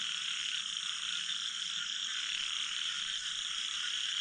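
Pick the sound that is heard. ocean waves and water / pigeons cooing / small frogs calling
small frogs calling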